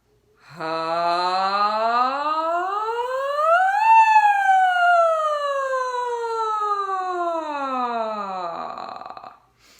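A voice imitates a siren, sliding smoothly from low pitch up to a high peak and then gradually gliding back down in one long sustained tone.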